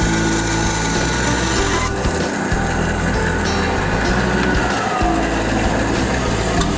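A Laguna woodworking bandsaw cuts through an 8-inch piece of walnut, a loud continuous motor hum and blade whine that dips briefly partway through the cut.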